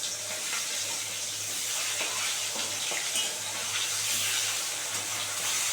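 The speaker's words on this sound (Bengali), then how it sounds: "খুব ভাজছে বন্ধুরা, এটাও 1 পিঠ ভাজা হয়ে গেলে এবার এটাও উল্টে দেবো।" Fish pieces fry in hot oil in a pan while fish kalia is being made, giving a continuous close, loud, even sizzling hiss with a few crackles and no voices.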